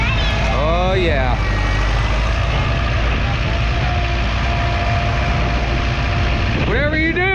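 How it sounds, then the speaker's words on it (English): A Case IH 620 QuadTrac tractor engine running loud and close with a steady, heavy low rumble throughout, while people talk nearby. "By the way, Sissy's driving a tractor"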